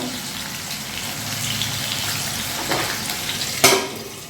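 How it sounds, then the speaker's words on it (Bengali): Pieces of rohu fish fry in hot oil with a steady, close sizzle and bubbling that holds throughout, rising briefly near the end. "মাছ ছেড়ে দিয়েছি, মাছগুলো ভেজে নিচ্ছি"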